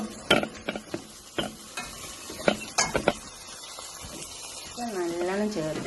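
Chicken curry sizzles in a pan while being stirred, with a series of sharp scraping and clattering strokes of a spoon against the pan, soft frying beneath, and someone talking throughout.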